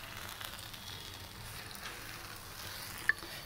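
Suji halwa with broad beans stirred in a pan gives a faint, steady sizzle and soft scraping, low and continuous with one small clink near the end.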